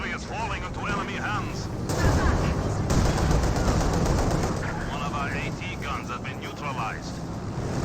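Gunfire barrage in Company of Heroes 2, a dense rolling mix of shots and blasts that swells louder in the middle, running steadily beneath a commentator's continuous talk.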